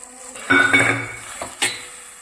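Tomato gravy for paneer tikka masala is poured into a metal pan with a spoon, giving close clinks and scraping clatter, a brief wet splash, and a sharp final tap.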